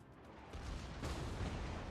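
Secondary guns on a warship in World of Warships opening up in a steady rumbling barrage, dense low booms layered one over another and growing louder partway through, with no talk.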